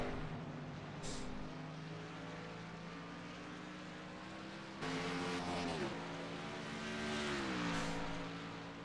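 A race car engine on the track at The Glen, droning loud and steady, with pitch sweeps as it shifts and accelerates, plus a brief higher whine early on.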